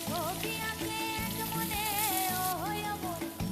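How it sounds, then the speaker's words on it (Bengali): Chopped onion fries in hot oil with dry chilli, bay leaf and garam masala for a Bengali mutton dish, giving a steady close sizzle with faint background music. "এরপর ওই তেলে একে একে শুকনো লঙ্কা, তেজপাতা, গরম মশলা ফোড়ন দিয়ে খানিকক্ষণ নেড়ে তাতে পেঁয়াজ কুচি অ্যাড করলাম।"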